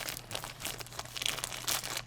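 Scissors cut open a tightly packed plastic bag of Mary Maxim yarn, giving close, steady crinkling and rustling with a few sharper tearing crunches throughout.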